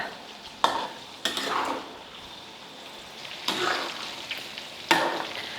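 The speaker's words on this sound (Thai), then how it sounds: "ระหว่างทอดให้คนไปมาด้วยนะคะ เนื้อหมูจะได้สุกสม่ำเสมอค่ะ" Pork belly deep fries in hot oil, a continuous sizzling hiss punctuated by about five louder stirring scrapes and splashes at close range.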